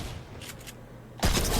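Pump shotgun fire with a muzzle brake in Fortnite: a short, dense crackle, then one loud, heavy blast near the end.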